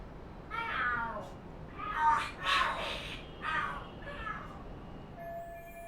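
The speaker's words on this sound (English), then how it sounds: "Are there cats fighting?" Cats fight and scream in the Lost Judgment video game, with drawn-out yowling caterwauls rising and falling in several loud wails, close up and without talk.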